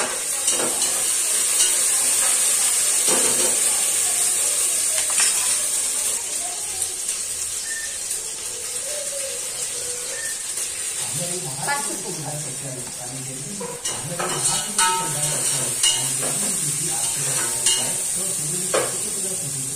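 Ginger garlic paste fries and is stirred in a pan while cooking chicken biryani, giving a steady close sizzle with scraping stirs. A person talks over it in the second half.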